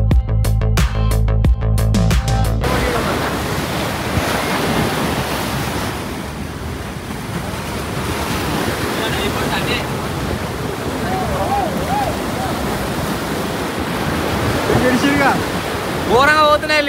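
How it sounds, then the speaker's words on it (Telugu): Water released from the Mallanna Sagar reservoir rushes in a loud, steady roar like heavy surf. Wind buffets the microphone at the start, and faint voices come through the torrent. "ఘోరంగా పోతున్నాయి నీళ్ళు."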